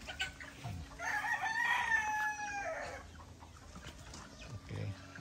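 A Roundhead broodcock rooster crows once in a long, drawn-out call, fairly close and clear, with scattered faint clucks and light background noise around it.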